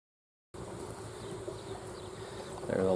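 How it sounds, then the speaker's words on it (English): Crowded honeybee hive humming with a dense, steady buzz of many bees, close and continuous after a brief silence, swelling slightly louder near the end. "There's a lot of bees in here."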